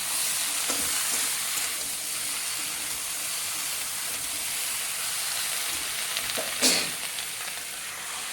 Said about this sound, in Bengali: এখন আমি পুঁই দিয়ে দিলাম, সঙ্গে আলু দিয়ে দিলাম। এটা আমি খুব ভালো করে মিশিয়ে নিলাম।